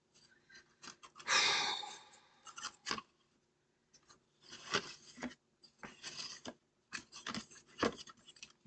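Paper being cut for a papercraft project, quiet close snips and slicing strokes in short irregular bursts separated by near-silent pauses.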